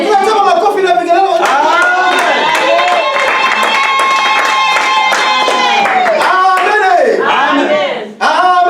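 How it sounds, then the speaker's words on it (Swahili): Church congregation bursting into applause and ululation, dense sustained clapping with high trilling voices over a crowd, loud and continuous before tapering off at the end. "Tunasema makofi na vigelegele."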